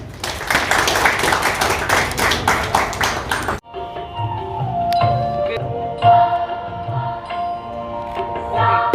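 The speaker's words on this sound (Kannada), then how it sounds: "ನಿಮ್ಮ ಎಲ್ಲ ಚಪ್ಪಾಳೆ ಮೂಲಕ ವೆಲ್ಕಮ್ ಮಾಡ್ತಾ ಇದ್ದೀನಿ" Audience at a certificate distribution ceremony clapping to welcome a guest to the stage: dense, loud applause for several seconds that cuts off abruptly, followed by quieter scattered sounds and faint tones in the hall.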